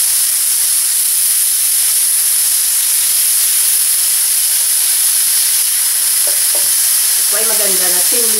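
Thinly sliced beef sizzles on a preheated teppanyaki grill set to a moderate heat, a loud, constant hissing crackle throughout, with a brief voice surfacing near the end.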